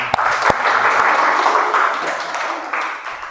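An audience claps after a group's presentation in a teacher-training Quran and Hadith class, a dense burst of applause that starts sharply and tapers off over a few seconds.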